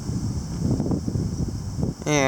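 Gusty wind during a September windstorm buffets the microphone in a low, steady rumble of wind noise that rises and falls throughout, ending with a brief tonal sound.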